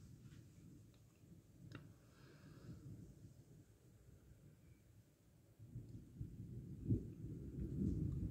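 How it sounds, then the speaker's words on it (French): Low, rolling rumble of distant thunder from a night storm, swelling toward the end, with a faint tick and a few small noises over a quiet outdoor background. "Et là, l'orage, il est encore loin."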